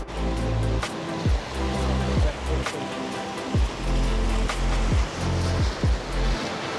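Surf on a beach in Koh Samui on an overcast day: close, loud wash of waves, with a low rumbling roar that swells and breaks repeatedly and briefly eases between surges.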